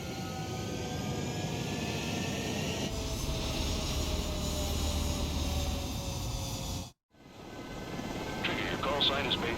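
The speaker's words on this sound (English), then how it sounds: "Mage 2, clear for takeoff." A jet fighter in the Ace Combat 7 video game roars steadily down the runway on takeoff, a loud continuous engine rumble with radio chatter over it, cutting out briefly near the end before resuming.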